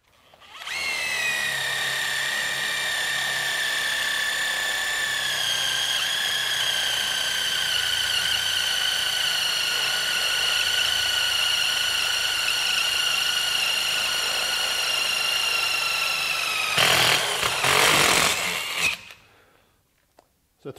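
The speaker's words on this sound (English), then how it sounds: "Now let's go to an impact wrench and we'll step up to the 3/8 bit." An impact wrench drives a 3/8 Spyder Mach Blue Stinger bit through steel plate, a loud, steady high-pitched whine held close for about sixteen seconds before a rougher burst as the bit breaks through, then winding down to quiet.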